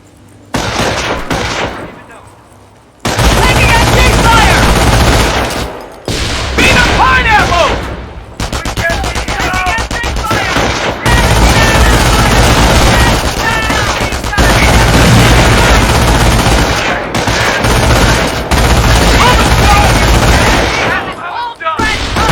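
Machine-gun fire in the Company of Heroes tutorial battle at a farm, with loud, sustained bursts and rattling volleys, scattered explosions, and a voice speaking at times over the fire.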